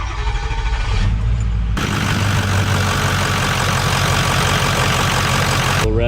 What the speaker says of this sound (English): This moment of truth here, we're about to fire it up. See if it even starts, right?